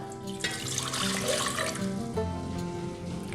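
Water poured steadily for a honey syrup, part of a figs-in-spiced-honey recipe, as a continuous close splashing flow lasting a few seconds with no talking.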